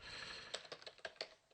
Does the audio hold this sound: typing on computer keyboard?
yes